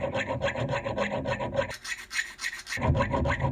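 A hand file rasps rhythmically across the teeth of a saw, close and fairly loud, in repeated quick strokes with a short pause before the strokes resume.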